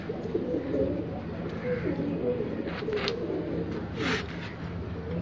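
Pigeons coo softly in a loft, a low murmuring of several birds layered over background noise, with a few brief sharper sounds breaking through.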